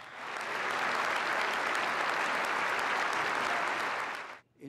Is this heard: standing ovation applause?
yes